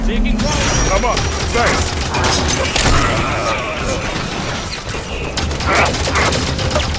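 Rapid bursts of gunfire and impacts in a military shooter video game, dense and loud throughout, with voices shouting over the fighting.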